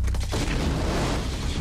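Grenade explosion in a war film, a loud deep boom that rumbles and rolls on for over a second, heavy and close in a battle scene, with no talk.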